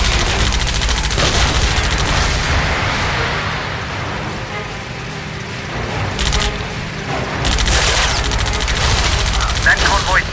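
Strafing machine gun fire in the flight combat game Heroes over Europe, a dense, loud continuous rattle with booming bursts and engine roar throughout, rising again near the end.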